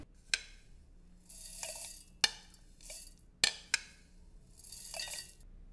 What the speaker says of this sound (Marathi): मिक्सरच्या भांड्यात थंड झालेले कारळे व शेंगदाणे घालूया